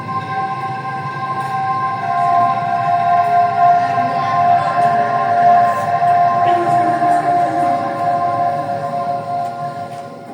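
Bamboo angklung shaken continuously, giving a steady, shimmering tremolo of sustained pitched tones that stays fairly loud and even throughout.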